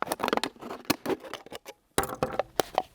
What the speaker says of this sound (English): I can get in there with my scissors to cut all the way round